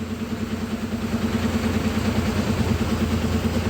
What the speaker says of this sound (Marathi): हे बघा रिवर्स गाडी घेतोय मी. ट्रेलर